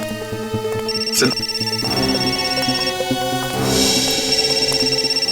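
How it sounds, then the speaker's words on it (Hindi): A phone rings with a steady electronic tone, fairly close, with a busy mix of background noise and voices around it. "सिद्धार्थ का फोन"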